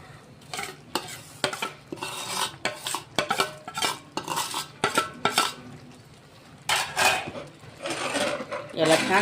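Spoon stirring semolina into cooked mango pulp in a pan while making mango laddoo, repeated scraping strokes against the metal with soft sizzling between them.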